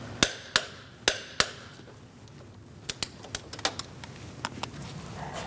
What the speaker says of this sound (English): I'm using a long extension with a socket to do that.